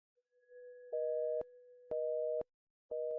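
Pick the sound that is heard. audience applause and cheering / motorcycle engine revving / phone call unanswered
phone call unanswered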